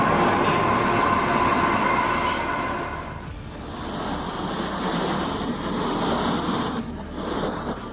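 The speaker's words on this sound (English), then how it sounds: "The historic Kaiser wagon travels beneath the tracks of Wuppertal's suspended railway" Wuppertal's historic Kaiser wagon rolls along its suspended railway with a continuous rumbling, rushing roar of rails and car body, loud and steady, easing slightly midway before swelling again, with no voices.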